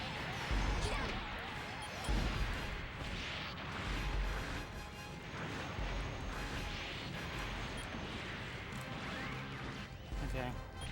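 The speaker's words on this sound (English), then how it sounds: "Thank you, explosions." Explosions from missile strikes in the Macross PS2 video game, Prometheus Wing storyline, a dense run of crashing booms and impacts over about eleven seconds, mixed with game sound and a voice talking.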